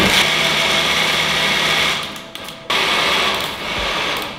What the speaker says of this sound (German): Und jetzt werde ich das Ganze simpel pürieren.